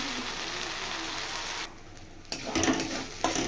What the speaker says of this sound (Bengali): এই মশলাটা একটু ভেজে নেব।